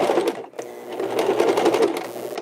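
A home sewing machine stitches fabric face masks in quick close bursts, a brief pause near the start and then a steady whirring run that continues to the end.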